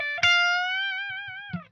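Kiesel LPM electric guitar, the older Lee McKinney model, played through a clean amp on its own: one sustained, vibrato-tinged note ringing out after a pick attack, then a second pluck at the end, close and unaccompanied.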